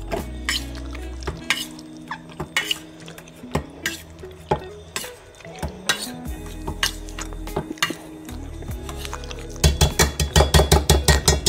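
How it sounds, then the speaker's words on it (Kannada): Cooked, mashed toor dal scraped and stirred into temple-style rasam with a spoon against the pot, irregular clinks and soft sloshing, then a rapid run of quick scraping strokes at the end. "ಈಗ ತೊಗರಿಬೇಳೆ ಬೇಯಿಸ್ಕೊಂಡಿದ್ದೀನಿ ಕುಕ್ಕರಲ್ಲಿ. ಅದನ್ನು ಸ್ಮ್ಯಾಶ್ ಮಾಡಿಕೊಂಡು ಅದನ್ನು ಹಾಕ್ಕೊಳ್ತಾ ಇದ್ದೀನಿ."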